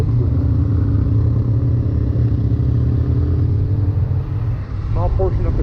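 A Honda VFR800 motorcycle riding in second gear on a tour in Friesland: a loud, steady engine drone with constant road and wind rumble, close to the rider, and a brief voice near the end.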